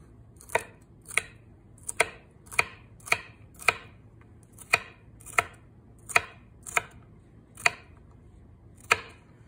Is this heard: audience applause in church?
no